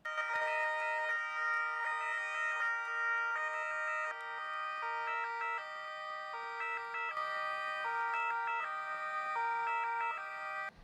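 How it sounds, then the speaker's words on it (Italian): Several Italian official car sirens wail together in tribute during the coronavirus emergency, their overlapping two-tone patterns repeating loudly and steadily with no other sounds. "L'omaggio con le sirene spiegate delle auto d'ordinanza"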